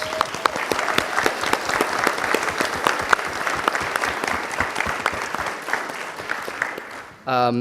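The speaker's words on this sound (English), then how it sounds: "So I just want to give her a round of applause." A university forum audience claps loudly and continuously, a dense patter of individual hand claps close by, fading slightly before a brief burst of other noise at the very end.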